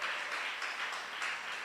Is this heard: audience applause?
yes